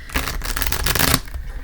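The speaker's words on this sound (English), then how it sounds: "So I'm going to go ahead and shuffle." Tarot cards being shuffled by hand, a dense, close rustling riffle lasting about a second before stopping, with no talk over it.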